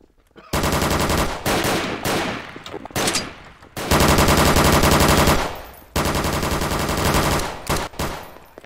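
Automatic gunfire in the Garry's Mod DarkRP game: loud, sustained machine-gun bursts in several long strings separated by brief pauses, rapid and close, with no talking over it.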